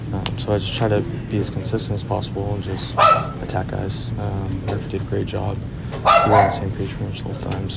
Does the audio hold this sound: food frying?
no